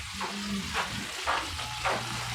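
Chicken fries in a pan with a steady soft sizzle, broken by brief bursts of stirring or spattering that recur roughly every half second. Nobody talks.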